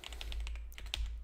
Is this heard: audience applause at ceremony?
no